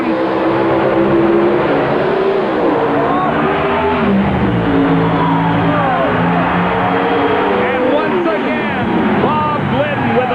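Drag racing cars screaming at high RPM at the 1988 NHRA Springnationals, loud and continuous engine roar with shifting pitch while an announcer talks over it.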